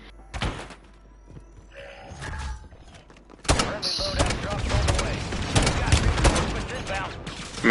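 Video game gunfire crackles in a dense, loud stretch of shots and thuds, following a quieter opening with a few isolated bangs and some talking.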